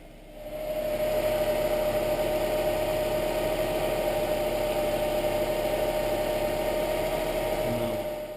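A car engine with a blown head gasket, treated with a DIY water glass fix, runs at high idle: a steady, even mechanical hum with a constant tone that fades in, holds for several seconds, then tapers off.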